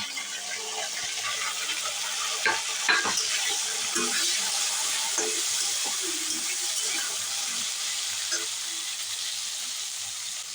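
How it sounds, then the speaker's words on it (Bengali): Pointed gourd and carrot fry in a pan with already-fried potato for a pui shak chorchori. The result is a steady, quiet sizzle with occasional scrapes and clicks of stirring throughout. "এখন পটল আর গাজরটা দিয়ে একটু ভেজে নেব"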